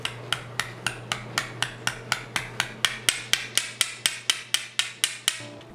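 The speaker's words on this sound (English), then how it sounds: "tapping it into the injector housing until the top of the filter is flush" Rapid, evenly spaced hammer taps drive a new filter into a BMW E36 fuel injector housing, about twenty sharp metallic clicks close to the microphone, their pitch and weight shifting slightly toward the end as the filter seats.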